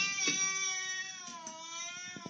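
A cat gives a long, drawn-out, wailing meow, close and fairly loud, with a few short bumps and noises near the end and no talking.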